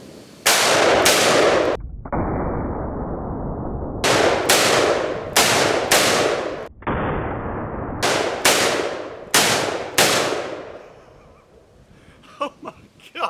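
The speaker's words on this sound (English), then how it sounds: "So we have the Smith & Wesson 460 and the Smith & Wesson 500, both snub noses, both 3-inch barrels, both loaded up, full of Underwood ammo" Smith & Wesson 460 and 500 snub-nose revolvers with 3-inch barrels fire Underwood ammunition outdoors: about a dozen deafening, close blasts, some in quick pairs, each followed by a ringing tail, with a short quieter stretch near the end.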